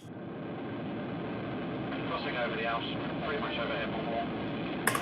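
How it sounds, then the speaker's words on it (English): A steady, broad jet roar sound effect fills the scene, swelling slightly as an aircraft passes, mixed into a melodic techno track with faint music-like tones. "we've got this jet sound effect in there as well. Kind of like a cool sound of like a jet passing"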